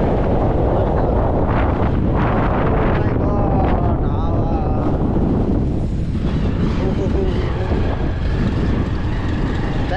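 Strong wind buffeting the microphone while riding at speed near Galkot, Nepal, a constant loud roar and rumble, with faint voices partly buried underneath.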